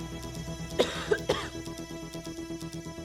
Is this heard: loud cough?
yes